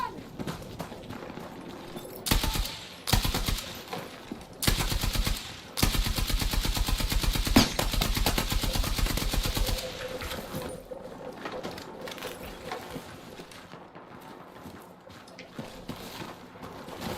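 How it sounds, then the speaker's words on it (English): Hostile machine gun fire in a first-person shooter: several loud bursts of rapid automatic shots, the longest lasting a few seconds, over quieter game ambience. "Hostile machine gun!"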